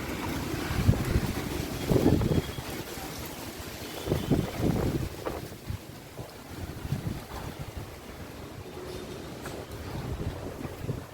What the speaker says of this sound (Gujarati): જો મિત્રો, જબરજસ્ત વાવાઝોડું આવ્યું છે.